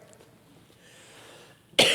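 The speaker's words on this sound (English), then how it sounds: "I'm trying to clear my throat." A single sharp, loud cough and throat clearing bursts out at the very end of a near-silent stretch at a committee meeting.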